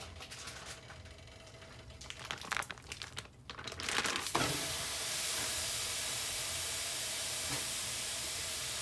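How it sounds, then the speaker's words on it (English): Ground beef dropped into a preheated pan for tacos, crinkly handling noises first, then a sudden loud, steady hiss and sizzle that holds close and even. "I got the pan already heated up. I'm going to go ahead and add the ground beef."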